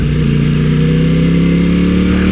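An Italian superbike engine puttering along in low gear on a ride to work, a steady close-up drone with a throbbing low hum and slight revving under constant wind-like rush.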